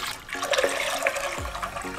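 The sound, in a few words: water pouring into a pot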